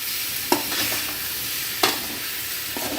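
Tomato being sautéed with shredded parotta in a pan for egg kothu parotta, a soft steady sizzle broken by two sharp spatula knocks against the pan, close and without talk.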